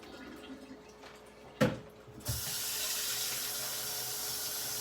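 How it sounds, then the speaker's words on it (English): Melted butter poured out of a pot of chicken ramen into a sink, a brief clunk and splash followed by a steady hissing stream of liquid running continuously near the microphone. "I think I'm going to drain all the butter out."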